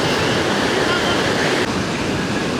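Ocean surf at a family beach, a loud continuous wash of breaking water that roars through the whole moment with a slight dip partway, close to the microphone and with no talking over it.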